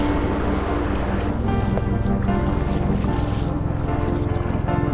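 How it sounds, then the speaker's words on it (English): Waves break over reefs around St Ninian's Isle, Shetland, heard from a sea kayak as a constant loud wash of surf and water mixed with strong wind buffeting the microphone. "the sound and sight of waves breaking over the reefs"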